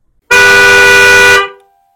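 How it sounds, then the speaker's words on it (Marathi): A single loud car horn blast on a vehicle driving through Kasara Ghat, close and steady for about a second before cutting off with a short fading tail, with no talk around it. "हॉर्न वाजवायचा"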